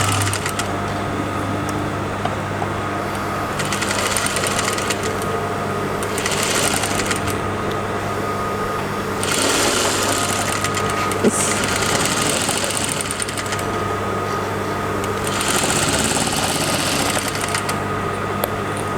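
A sewing machine stitches two fabric pieces together for a gathered dirndl skirt. It runs in a steady mechanical whir with several louder bursts of faster stitching between calmer stretches, close and continuous, with no voices.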